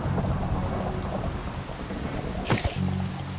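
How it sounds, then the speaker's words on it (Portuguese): A video game thunderstorm with continuous heavy rain and deep rumbling, then a sharp loud thunder crack near the end before the downpour continues. "Tá trovejando muito forte, velho."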